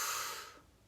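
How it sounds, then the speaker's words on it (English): A single deep breath drawn in during a guided meditation, a soft close airy inhale that fades out within a second, heard alone. "Take a deep breath in."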